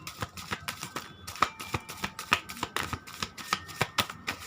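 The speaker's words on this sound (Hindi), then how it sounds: "ये हैं मेरे कार्ड्स, इनको मैं आपके सामने यहाँ पर मिक्स करने वाली हूँ" A deck of tarot cards is shuffled by hand in a fast, steady rhythm of crisp riffling snaps, close and clear with no voices.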